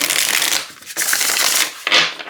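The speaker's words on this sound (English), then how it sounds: "I've always riffle shuffled. Like it riffle shuffles really, really nicely." Tarot cards of older Llewellyn cardstock are riffle shuffled in three crisp, rapid bursts, each a fluttering rush of flicking card edges, close by.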